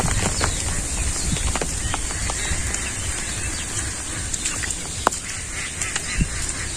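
Ducks in a rainy Bangladeshi village give nasal honking quacks over a constant noisy background of rain and wind, some calls close and sharp, others overlapping.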